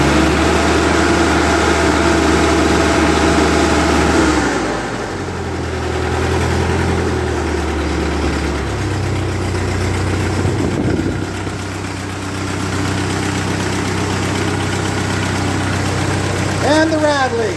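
A 1948 Ford 8N tractor engine idles steadily after startup, a loud, continuous low rumble with vibration that holds for the whole stretch, with some faint talk underneath.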